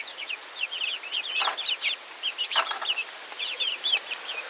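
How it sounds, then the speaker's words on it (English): Backyard chickens, black and brown hens, clucking in short repeated bursts, close and clear against a quiet background, with a couple of louder squawks mixed in. "Silly little chicken."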